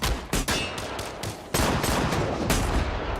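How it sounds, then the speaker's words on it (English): Movie shootout gunfire on a mountainside between rival gangs, dense loud bursts and rapid volleys of shots from close by, building into sustained chaotic firing. "Gunfire explodes from both sides, turning the quiet mountainside into chaos."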